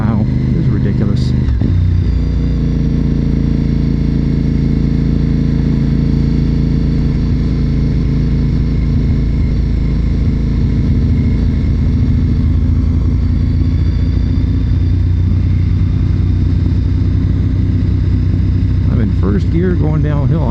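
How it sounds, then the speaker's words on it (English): A motorcycle in first gear coasts downhill with the throttle closed, giving a steady, close engine drone with wind rumble that runs unbroken from start to end. "First gear going downhill. I'm with the throttle closed and my bike's doing 51."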